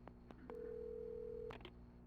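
A telephone in the video game Alan Wake gives a single steady electronic ring tone lasting about a second, close and clear over a low background hum, with no voices.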